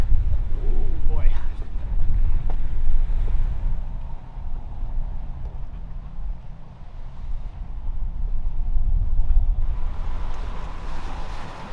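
Wind roars steadily across a sailboat at sea in squally, wet weather, a loud, rough rush with water sounds beneath it.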